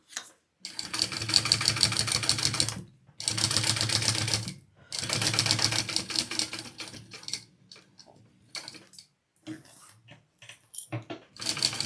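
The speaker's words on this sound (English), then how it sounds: "let's top stitch. I think I'm going to start right here." A sewing machine top stitches a zipper panel on a handbag in loud, close bursts of rapid needle chatter separated by short pauses, ending in a few scattered clicks and taps.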